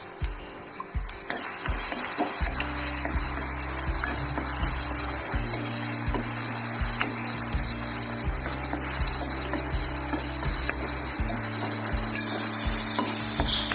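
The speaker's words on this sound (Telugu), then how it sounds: "వేసేసుకున్న తర్వాత ఉల్లిపాయలు పచ్చిమిరపకాయలు వేసేసి దూరంగా వేయించుకుంటాం అనమాట" Onions and green chillies fry with curry leaves for an aloo and broad bean curry, a loud, continuous close sizzle with a steady hiss throughout, while a low mechanical hum comes and goes underneath.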